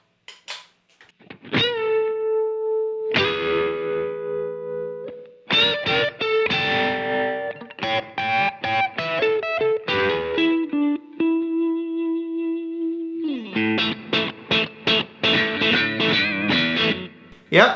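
Electric guitar blues riffs pulsing through a Fender tremolo and reverb pedal, with rhythmic choppy chords and a few sustained wavering notes ringing out, played alone.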